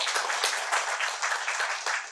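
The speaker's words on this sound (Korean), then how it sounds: "우리 대사님한테 다시 한번 고맙다는 박수 한번 부탁드리겠습니다" An audience at a carbon-neutrality energy forum in Jeju claps steadily to thank an ambassador, a dense, even patter of many hands that continues throughout.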